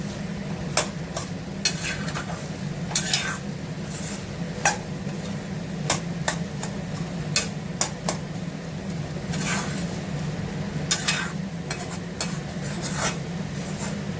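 In a pan, egg and ridge gourd are being stirred, with a spatula repeatedly clacking and scraping against the metal over a low steady sizzle. The strokes come in an irregular rhythm, close and fairly loud, and no one speaks.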